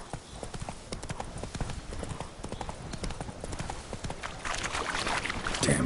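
Roach, the horse in The Witcher 3, gallops in a fast, steady clip-clop of hooves that grows louder toward the end, with a voice heard briefly over it.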